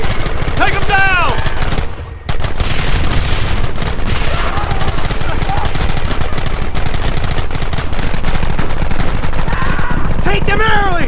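Heavy gunfire in the Western game Red Dead Redemption, a shootout with rapid, continuous rifle and pistol shots rattling loudly and almost without pause, with shouted voices and whistling sounds mixed into the dense racket.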